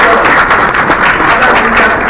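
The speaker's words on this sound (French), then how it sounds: "j'ai envie que vous les applaudissiez encore une fois." Assembly audience at a world gathering in Dakar applauds once again, a loud unbroken wash of many hands clapping, close and sustained with no pause.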